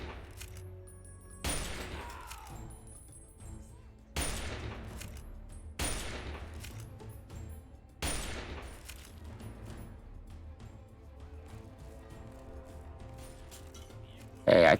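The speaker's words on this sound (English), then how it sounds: "Hey, I can throw grenades." Grenades tossed and exploding in the Fallout 3 video game, with four loud booming blasts spaced a couple of seconds apart, each decaying into rumbling debris over a quieter game backdrop.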